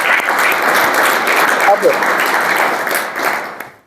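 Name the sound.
audience applause for the guest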